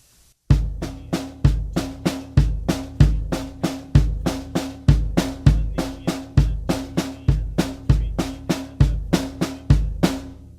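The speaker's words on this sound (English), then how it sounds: "one note on the bass drum, followed by two on the snare drum" A simple steady drum beat repeating evenly: a deep bass drum hit alternating with sharper snare strikes, played alone at a moderate tempo.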